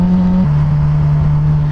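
A Suzuki GSXR 750 motorcycle engine revving hard in traffic, a loud, close, steady high-pitched drone whose pitch drops slightly partway through.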